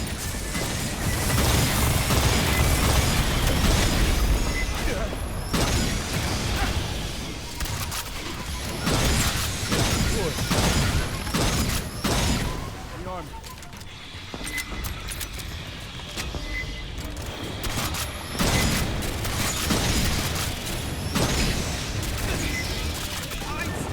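Dense bursts of gunfire and crashing blasts from the video game Aliens: Fireteam Elite continue almost without pause, with voices talking now and then over the din.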